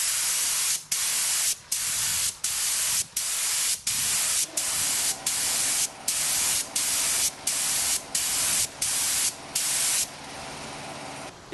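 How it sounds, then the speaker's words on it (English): Spray gun applying thinned lacquer, about half lacquer and half thinners, at 30 psi onto a woodturning on a turntable, sounding as a near, steady hiss in a series of regular bursts about a second long separated by brief pauses. "I'll start spraying, moving the Lazy Susan around all the time."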